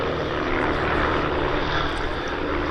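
Aerobatic display aircraft fly in Delta formation at the Duxford Summer Air Show, a steady loud engine drone with a propeller buzz that holds evenly through a low underside pass, no voices.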